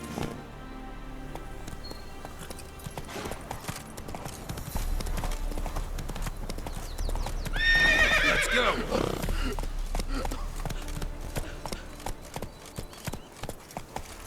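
Roach the horse galloping in The Witcher 3, a steady clip-clop of hooves running under ambient game sound, rising to a loud whinny partway through before the hoofbeats carry on.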